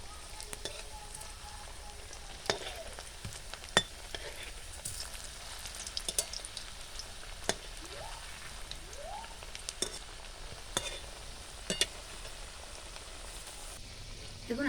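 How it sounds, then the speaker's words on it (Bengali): Breakfast snacks sizzle gently in oil over low heat, a soft continuous crackle broken by occasional clinks and scrapes of a utensil, close and fairly quiet. "দেখুন হালকা আঁচে 2 পিঠ খুব লাল লাল করে ভেজে নিয়েছি"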